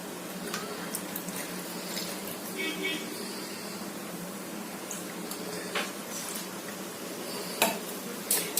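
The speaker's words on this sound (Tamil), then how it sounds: "இது ஊற்றி நல்லா கலக்கணுங்க நல்லா ஃபுல்லாக கலக்கணுங்க அல்வா பதத்துக்கு வர வரையும் நல்லா கலக்கணுங்க" Tirunelveli halwa mixture being stirred in sugar syrup in a pan, a soft steady scraping and bubbling with a few sharp ticks of the utensil against the pan near the end.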